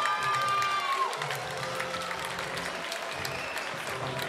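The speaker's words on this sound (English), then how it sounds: "A great reaction from the Royal Randwick crowd here tonight" A crowd at a Royal Randwick corporate boxing fight night applauds and cheers loudly and continuously, with a whistle and shouts standing out early before the clapping settles into a sustained roar.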